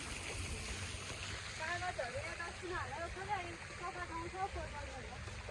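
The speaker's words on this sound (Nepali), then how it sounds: "कस्तो राम्रोसँग पानी गइरहेको के" A stream at Taudaha flows with a soft, continuous rushing wash, heard faintly at a distance while people talk over it.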